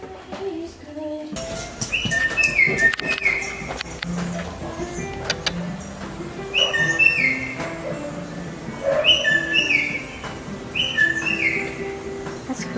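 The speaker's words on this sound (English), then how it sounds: "It's a bird. It sounds like he's over there somewhere. I just love that bird call." Bright, whistled bird calls ring out in repeated bursts of rising and falling chirps, fairly close, over a low background hum.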